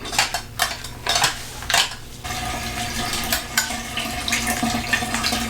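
PhotoFlow solution for colour negative film developing is mixed by hand, giving several quick rhythmic swishing strokes of liquid followed by a quieter, steadier sloshing, close up and without speech.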